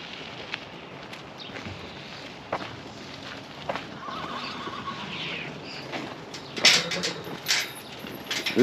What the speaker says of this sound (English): Horses are waiting. They're hungry.